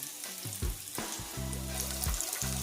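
Plantain fries in a pan with a continuous crackling sizzle, punctuated by a few clinks and scraping knocks as the pieces are moved around.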